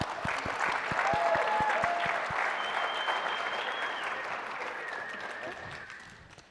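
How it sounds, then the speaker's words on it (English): An audience at the MIT $100K Entrepreneurship Competition launch event gives a round of applause for a startup pitch, a fairly soft, sustained clatter of many hands that tapers off toward the end, with voices faintly present. "Please give me a round of applause for Uplift Microhome"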